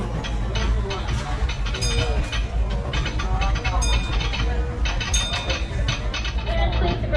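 Disneyland Railroad train rolling along its rails from New Orleans Square toward Tomorrowland, a steady close rumble with repeated clacks and squeals, heard from a passenger seat with voices murmuring around.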